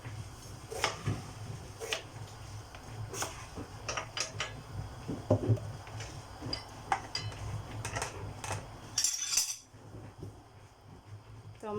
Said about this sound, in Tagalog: hiwain muna natin itong mga gulay